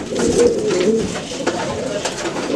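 Pigeons in a breeding loft coo in low, continuous murmuring tones through the whole stretch, fairly close, while people talk over them.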